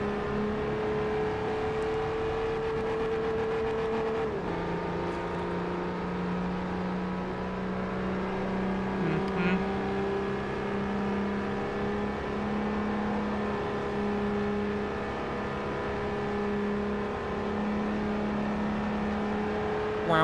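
Gumpert Apollo supercar engine in Forza Motorsport 4, a steady sustained drone that shifts pitch once early on, then holds a continuous whirring tone throughout with no talking.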